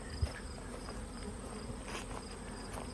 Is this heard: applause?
no